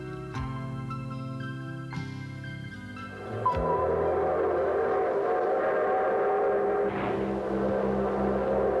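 A Korean passenger train, the Seoul-bound number 12, sounds a long steady whistle blast, then rolls on with a loud continuous rumble of wheels and cars.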